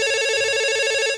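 A telephone rings with a steady, loud electronic tone that holds for about a second and then cuts off, with no one talking over it.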